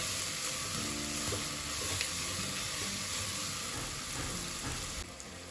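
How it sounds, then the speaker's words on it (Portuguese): Onion and seasoning sizzling and frying in a pan, a steady crackling hiss throughout with occasional stirring scrapes, close and moderately loud. "deixar esse tempero fritar também, só tendo cuidado para não queimar a cebola."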